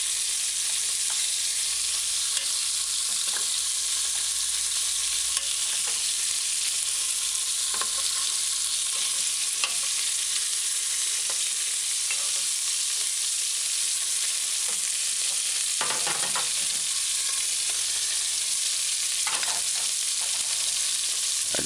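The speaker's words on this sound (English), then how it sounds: "So kind of flip the beef chunks to the side that's not frying." Beef chunks frying in a pot for a brown stew, a constant hissing sizzle with occasional crackles and the scrape of stirring, close and steady with no one talking.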